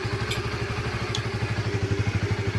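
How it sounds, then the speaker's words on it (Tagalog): A motorcycle engine idles steadily up close, with an even, rapid low thumping pulse and slight mechanical clatter. "ang ganda ng tunog ng makina"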